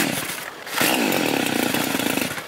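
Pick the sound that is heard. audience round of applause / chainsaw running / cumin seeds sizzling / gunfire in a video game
chainsaw running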